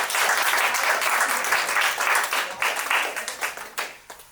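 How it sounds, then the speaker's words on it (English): Audience applause at a spoken-word poetry event, a dense steady clapping from a crowd that holds for several seconds before thinning out and fading at the end. "So give yourself a round of applause."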